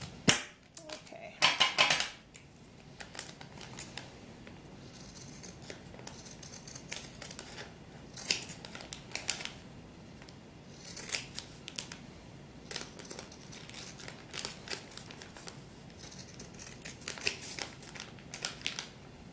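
Scissors snip through sheepskin while a doll vest is cut out, giving a run of quiet, irregular clipping and rustling sounds with a few louder snips, close by and without talk.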